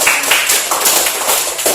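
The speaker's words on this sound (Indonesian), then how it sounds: "tepuk tangan dulu dong" A classroom group breaks into a brief round of clapping, a scatter of sharp claps from several students at close range, uneven and overlapping with faint voices in the room.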